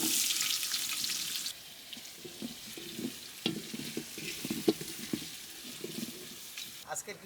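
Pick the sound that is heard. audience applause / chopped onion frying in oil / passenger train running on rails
chopped onion frying in oil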